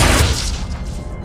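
A Confringo fire spell detonates in a wizarding video game, a loud booming blast with a deep low rumble that decays over about a second.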